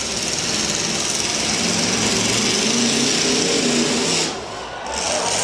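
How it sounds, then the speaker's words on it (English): Demolition derby car engine restarted after stalling at a county fair in Portage County, Ohio, running at a steady high-pitched buzzing roar throughout, dipping briefly near the end before picking back up. "The 164 Jeff Helmling's vehicle is fired back up."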